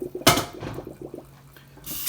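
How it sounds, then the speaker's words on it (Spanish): Water drains from cooked green beans into a sink or strainer, starting with a sudden splashing gush. A brief trickle follows, then a second rush of water near the end, with no speech. "los voy a agregar aquí para que se les tire todo el agua"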